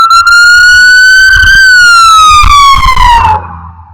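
A loud ambulance siren wails continuously, its pitch sweeping slowly then dropping as the vehicle passes close by and fades away, with traffic rumble underneath.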